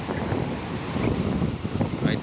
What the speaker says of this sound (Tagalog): Ay talaga lalaki ng alon oh.